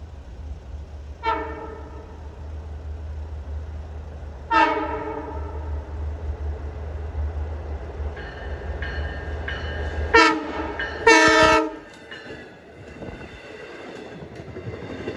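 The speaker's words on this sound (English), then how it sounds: "Approaching west at 420 is train 657, Port Jeff to Jamaica." A Long Island Rail Road passenger train horn on the Port Jefferson Branch sounds twice in the distance over a low rumble, then louder horn blasts ring out as the train draws near.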